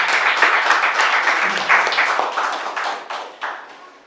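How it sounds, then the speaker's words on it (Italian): A crowd claps in dense, steady applause that gradually thins and fades out over a few seconds. "Un applauso."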